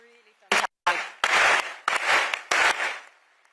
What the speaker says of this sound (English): Please, ladies and gentlemen, round of applause.